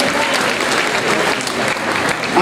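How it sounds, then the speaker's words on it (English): A school audience at a winter music festival for middle school students claps in dense, sustained applause throughout, with faint crowd voices mixed in. "Let's give our kids a big round of applause."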